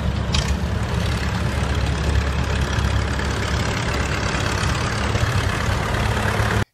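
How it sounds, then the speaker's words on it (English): An antique 1959 Ford 841 Powermaster tractor engine runs steadily and loudly close by, a continuous low rumble with dense broadband noise and no breaks until it cuts off at the end. "driving the antique 1959 Ford 841 Powermaster."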